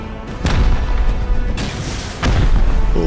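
Rocket launches and explosions in a multiplayer survival video game come as loud booming blasts, with two or three heavy thumps and a sustained rumbling roar, close and dominant with no voices.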